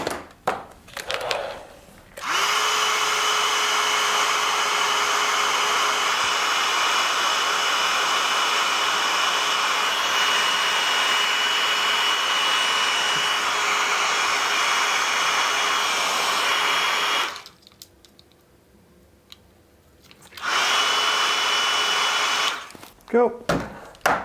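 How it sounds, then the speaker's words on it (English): A heat gun blows hot air onto heat shrink tubing while making speaker cable, a steady loud whooshing hiss that runs for about fifteen seconds, stops briefly, then starts again for a short final burst. "And get your tape gun, sorry, heat gun."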